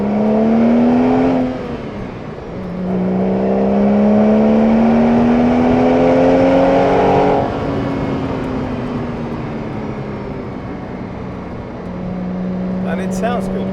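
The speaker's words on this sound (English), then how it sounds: "Now let's put our foot down and hear that exhaust." A Porsche 911 997.1 Carrera 2 with its 3.6-litre flat-six boxer engine pulls hard through the gears, exhaust note rising in long sweeps with a brief lift between shifts, loud and close from inside the car.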